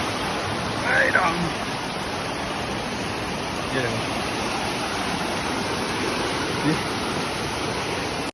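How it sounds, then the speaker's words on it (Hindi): A fast-flowing stream rushes beside a road destroyed by fresh landslide debris near Mussoorie, a loud, steady, close wash of water throughout, while someone briefly speaks over it. "ये देखो पानी का फ्लो एकदम तेज है यहाँ पे।"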